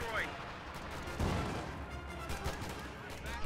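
Gunfire from a sniper and riflemen in a strategy video game: dense, continuous battle noise with scattered shots and rolling bursts, with a voice talking over it.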